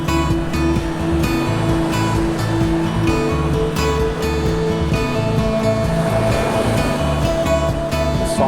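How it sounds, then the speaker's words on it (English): Rough surf breaks on Vanderbilt Beach during sand berm construction, a continuous, loud, steady roar of waves with a low droning engine tone running beneath it throughout. "The song of the waves."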